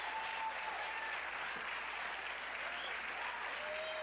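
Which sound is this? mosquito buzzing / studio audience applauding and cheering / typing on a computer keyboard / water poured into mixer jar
studio audience applauding and cheering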